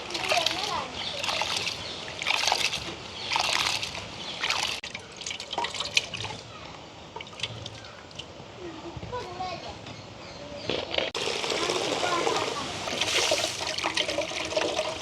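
Soaked grain for dosa batter is rubbed and washed by hand in water, giving steady splashing, dripping and trickling close by while a person talks throughout.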